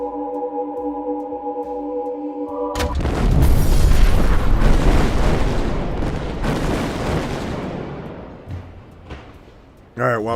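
A loud explosion bursts in suddenly after a quiet tonal passage, its broad rumbling roar swelling and holding for several seconds before slowly dying away, with a brief sharp sound at the very end.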